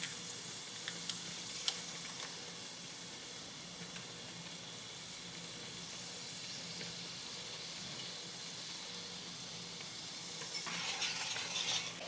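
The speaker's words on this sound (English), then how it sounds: "So now we have put all of these sauces in, and they are sauteing" Sauces, garlic and red pepper flakes sauteing in a pan, a faint, even hiss and sizzle held steady throughout, with a couple of tiny utensil ticks early and a slight swell near the end.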